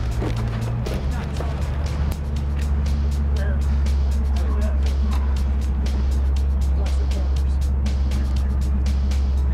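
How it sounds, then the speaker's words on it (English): A truck engine rumbles steadily and loudly as the vehicle is moved, a constant low drone with sharp clicks and rattles over it and voices nearby. "Let me move the truck"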